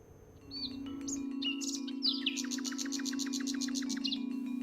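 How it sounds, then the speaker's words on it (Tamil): Foreign migratory birds gathered at a waterbody in Kumari district chirp and tweet in quick repeated bursts over a steady low hum, the calls close and bright, growing busier after the first second. "குமரி மாவட்டத்தில் ஒரு நீர்நிலையை தேடி வந்துள்ள வெளிநாட்டு பறவைகள்தான்"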